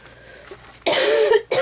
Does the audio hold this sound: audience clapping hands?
no